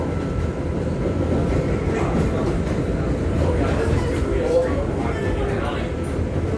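An R211 D train on the New York City subway rolls toward Coney Island, a loud steady rumble and rattle of the car in motion with faint squeals, heard from inside.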